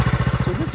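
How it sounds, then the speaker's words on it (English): Craftsman LT1000 lawn tractor engine surging at high throttle, a short, loud, rhythmic pulsing chug close by, its pitch rising and falling with each beat. "Carburetor surges when it's at high throttle."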